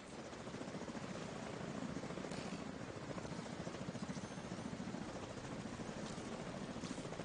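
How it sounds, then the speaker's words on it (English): An enemy helicopter in the shooter game The Division 2 thuds with a steady, rapid rotor chop and engine drone, continuous and moderately distant throughout. "One chopper behind us, let's fall back."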